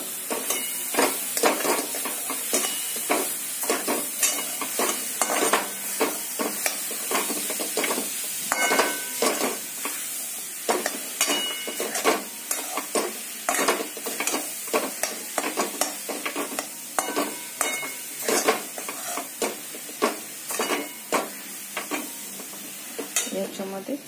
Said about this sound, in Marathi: लसणाचं कच्चेपणा कमी होईपर्यंत आपण छान याला असं परतवून घेणार आहे